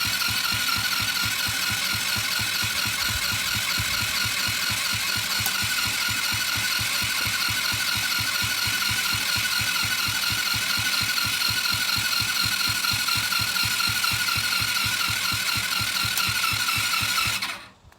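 Small single-cylinder go-kart engine running steadily after cranking, a fast even loud chug that holds without change for about seventeen seconds before cutting off abruptly.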